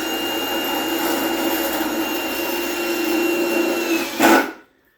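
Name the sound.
power drill driving self-tapping screws into aluminum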